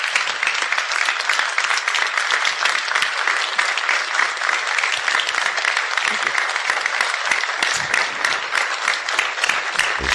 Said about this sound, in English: And now you're hearing the standing ovation.